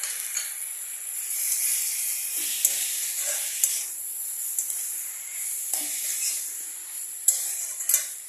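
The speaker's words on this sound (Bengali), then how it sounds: "এটাকে এখানে 3 থেকে 4 মিনিট এখানে কন্টিনিউ কষাতে হবে।" Spices and shredded cabbage sautéing in a pan with a little water, a steady close sizzling hiss with occasional soft stirring scrapes and bursts.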